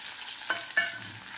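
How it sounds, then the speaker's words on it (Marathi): Onion frying in hot oil in a kadhai, a steady close sizzle and hiss with two brief spatula scrapes or clinks, moderately quiet with no voices. "आता कांदा भाजून घेते चांगला."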